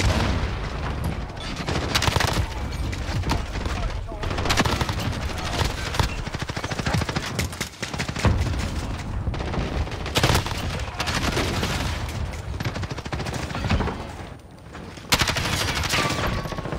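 Rapid shotgun blasts and other gunfire in a first-person shooter on the Shipment map, dense loud bursts with booms and explosions packed closely together, brief quieter gaps between volleys.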